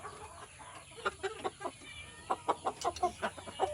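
A young gamecock rooster with a straight comb, about three months old, clucks in short bursts of several quick notes, close and fairly loud against a faint steady background.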